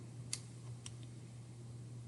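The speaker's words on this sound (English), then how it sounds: "So we're typing it into our calculator" A few faint, sharp clicks of calculator buttons being pressed, spaced irregularly over a low steady electrical hum.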